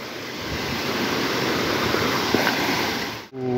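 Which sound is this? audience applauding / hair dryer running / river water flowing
river water flowing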